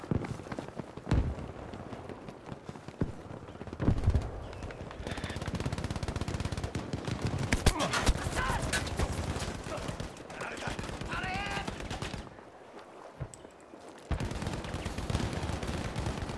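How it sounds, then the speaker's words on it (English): Sustained machine gun fire from an emplaced nest in Battlefield V rattles in dense, continuous bursts, loud and close, with brief lulls and other battlefield noise mixed in; someone talks over parts of it. "Machine gun nest still there."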